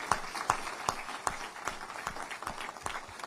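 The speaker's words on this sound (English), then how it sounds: "Give this man a round of applause." A short burst of applause and scattered clapping from a small crowd, the claps sharp and irregular at a moderate level.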